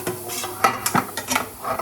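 Dishes and utensils being scrubbed and washed at home after a family meal, with a series of close, sharp clinks and clatters of metal pots and cutlery at an irregular, brisk pace, no voices.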